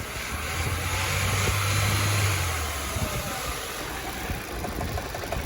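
A four-cylinder car engine, first started in nearly five years, runs nearby with a low, steady hum that swells slightly, then settles into a rough, even idle.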